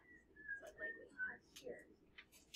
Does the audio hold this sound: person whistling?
yes